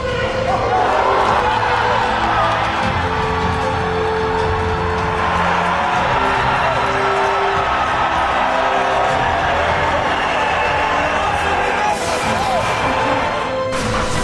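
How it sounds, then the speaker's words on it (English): A crowd cheers continuously and loudly as a giant paper airplane breaks a record, with dramatic music running underneath the whole time and a burst of added excitement near the end. "Dramatic music and cheering, but that really was the video."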